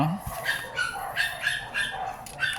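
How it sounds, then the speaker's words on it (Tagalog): A dog barks in repeated sharp, high yelps and yips, fairly close and steady across the moment, with a person speaking briefly beneath the barking indoors. "Oops, may tumatahol na aso."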